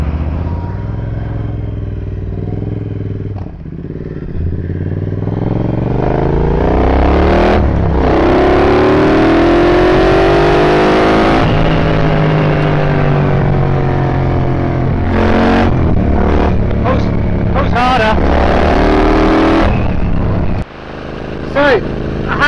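A Triumph Bobber motorcycle accelerates hard along a road, its engine note rising through the gears with clear pitch sweeps and shifts, loud and close, with wind rush and someone talking over it.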